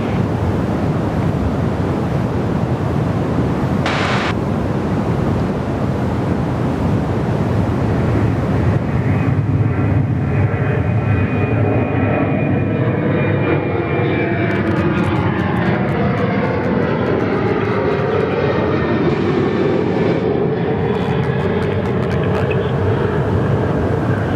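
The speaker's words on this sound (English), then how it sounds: "Malaysian on the roll now, back to Kuala Lumpur" A Malaysian airliner taking off from Perth Airport for Kuala Lumpur gives a loud, continuous jet engine roar that builds and shifts in pitch, heavy with wind noise on the microphone.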